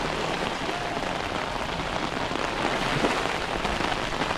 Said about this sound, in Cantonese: 睇下落幾大雨